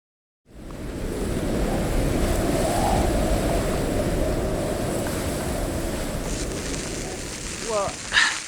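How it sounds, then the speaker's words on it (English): Strong wind and heavy rain batter the outdoors on a motorcycle tour to Lindisfarne, a loud, steady rushing wash that starts abruptly and holds to the end, with a brief voice near the close. "it is windy and absolutely tipping it down"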